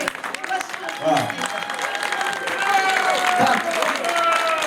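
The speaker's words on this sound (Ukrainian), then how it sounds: "І ці оплески це щира подяка вам, громадській організації розбудова." Audience applause at a festival concert, steady clapping with crowd noise and some vocal tones mixed in, fairly loud and continuous throughout.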